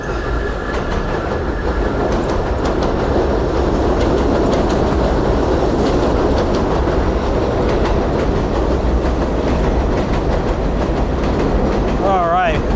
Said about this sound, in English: we got a train about to pass over, so I'll wait.